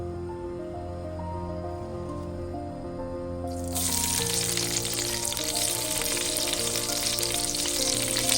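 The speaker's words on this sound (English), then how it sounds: "you're gonna put all of your peppers into the same pan you used before" Peppers hit a hot pan with a sudden loud sizzle partway through, then a steady close frying hiss continues to the end over a faint low hum.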